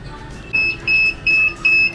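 Oven temperature alarm on a powder-coating oven beeping four times in a steady, evenly spaced pattern of loud, high electronic tones, close by.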